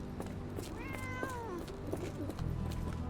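A cat meows in the Sherlock Holmes: The Awakened video game, a few wavering, drawn-out cries set fairly low in the mix beneath dense ambient game sound.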